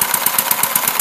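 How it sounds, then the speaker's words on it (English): A homemade side-valve flathead engine machined from bar stock, with dual independent camshafts, runs up close with a rapid, regular chuffing beat of about eight sharp pulses per second. "It's a side valve or flathead engine with dual independent camshafts."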